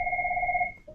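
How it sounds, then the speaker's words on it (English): A mobile phone rings in a lecture room with one steady electronic two-tone chime that holds for most of a second, then breaks off and briefly resumes lower. "my phone is ringing here"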